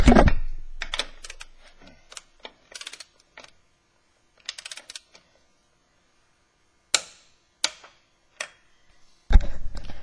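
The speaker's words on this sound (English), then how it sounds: "that click was proper torque. That's the torque wrench snaps off at 80 foot-pounds here" A torque wrench set to 80 foot-pounds clicks on a car wheel nut, producing a series of sharp, isolated clicks and snaps with quiet gaps between them.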